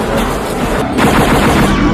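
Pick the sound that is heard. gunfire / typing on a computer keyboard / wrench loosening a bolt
gunfire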